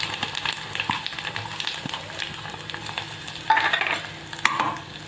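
Dry coconut is stirred into amti in a pan after a cumin tempering. A soft, steady sizzle runs under scattered spoon scrapes and taps against the pan, with a louder frying hiss near the end.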